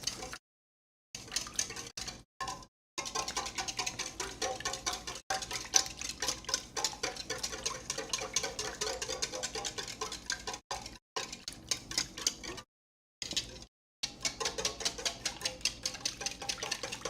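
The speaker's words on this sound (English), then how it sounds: "I'll whisk this together, and that's our egg wash done" Fast rhythmic clicking and tapping of a whisk beating egg wash in a bowl that is a bit too large. Steady metallic ticks run in bursts over several seconds, broken by brief silent gaps, with no talking.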